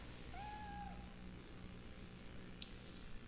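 A cat meowing in the horror game Fatal Frame 3, one short faint meow early on over quiet ambient background, with a few small clicks later.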